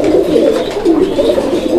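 Fancy pigeons kept for sale in Bangladesh coo loudly and continuously up close, overlapping throaty warbling calls that rise and fall in a steady pulsing rhythm.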